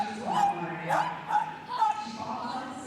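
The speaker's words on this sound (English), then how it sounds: "Fiammetta barks like a seal, and indeed she does." A miniature American Shepherd running an agility jumping round at a Crufts dog show gives a few short, hoarse, seal-like barks, fairly faint, amid arena noise and a talking commentator.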